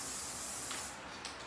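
Repositionable adhesive spray hisses from an aerosol can in a steady, close, continuous burst, easing off near the end with a brief extra puff.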